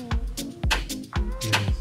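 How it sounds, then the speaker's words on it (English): Floor of a drift Mustang flexing at a broken spot weld, giving four repeated creaking groans with low thumps, each about half a second apart, close and fairly loud with no talking. "yeah, that noise is the floor flexing."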